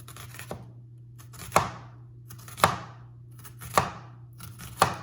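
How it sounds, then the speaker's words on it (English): A knife chopping an onion on a cutting board, five evenly spaced crisp thuds, close and clear against a low steady hum, with no talking. "I'm just going to cut a little bit of the onion off"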